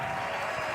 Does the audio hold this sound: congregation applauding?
yes